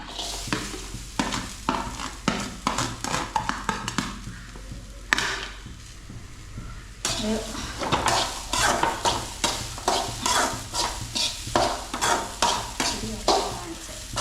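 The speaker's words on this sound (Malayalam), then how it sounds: "തേങ്ങ, ചെറിയ ഉള്ളി, പിന്നെ 5-6 എണ്ണം, പിന്നെ പുളി, ഇത് 3 കൂടെ ആദ്യം ഇട്ട് നമുക്ക് വറുക്കാം." Grated coconut, shallots and tamarind roast in a pan over low flame for a Kerala papaya theeyal, with a soft continuous sizzle under rapid, rhythmic scraping stir strokes and no talking.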